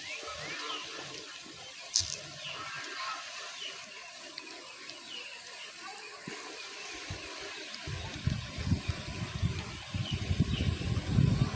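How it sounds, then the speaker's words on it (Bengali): Floodwater rushes fast and steadily outdoors, growing louder and more turbulent toward the end, with a faint bird call early on. "প্রবল বেগে পানি আসতেছে, প্রবল বেগে।"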